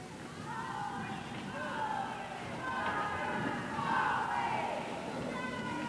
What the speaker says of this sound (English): Got a little cheering section going on of the moms over in the crowd.